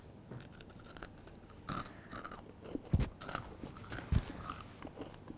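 Crispy oven-dried biscotti is bitten and crunched up close, with two sharp bites followed by scattered crunchy chewing and no talking.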